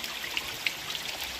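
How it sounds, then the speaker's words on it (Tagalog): A steady trickle of natural mountain spring water with a few brighter droplet splashes standing out over the constant soft flow. No one speaks. "Spring. Nature's Spring. Tubig bukal."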